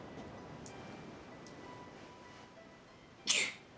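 A single sharp sneeze bursts out near the end, loud and close, after a few seconds of quiet background hiss with faint clicks.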